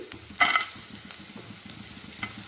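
Cashews frying in oil in a pan with ginger and garlic for paneer butter masala, a steady sizzle with scattered stirring clinks and one brief louder burst near the start, no talking.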